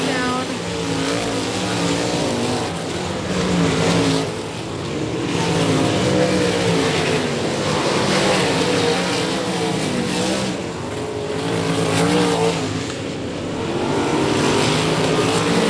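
Race cars at Boyd Raceway battle head to head down the back straightaway, a continuous loud engine roar that swells and fades as the cars push along, with commentary talk running underneath.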